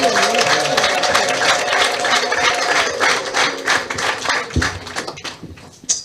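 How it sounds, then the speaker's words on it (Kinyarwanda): A church congregation claps and ululates together, the sound a dense stream of claps with high trilling voices over it, thinning out near the end. "Muyimbera amashyi n'impundu"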